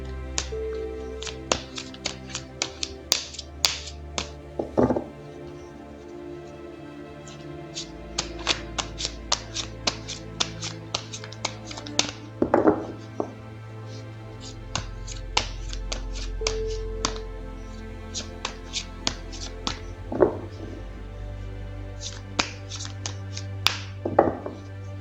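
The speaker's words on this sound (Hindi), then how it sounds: "तो चलिए पहले ज़रा कार्ड्स को शफल कर लेते हैं।" Tarot cards being shuffled by hand, heard as scattered crisp taps and flicks at an uneven rhythm, close and fairly quiet over a low background hum.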